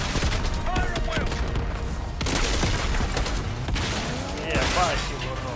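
Sustained gunfire during a Call of Duty: Black Ops 6 assault on a palace gate, a dense fusillade of rapid shots and booms with short gaps, voices shouting underneath.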